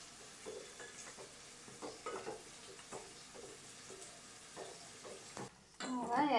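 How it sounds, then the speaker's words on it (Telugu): Coconut frying in hot ghee, a low, soft sizzle with rhythmic stirring scrapes close by, followed by a brief louder burst of sizzling and clatter at the end. "ఇప్పుడైతే కొబ్బరి వేస్తున్నాను. కొంచెం కలర్ మారేదాకా మనం దాన్ని వేయించేసుకోవాలంటే"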